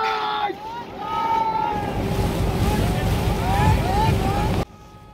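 A bandit group's trawler in the Sundarbans drones along with a steady, loud engine hum over rushing water and wind until it cuts off abruptly near the end, with a voice talking at the start.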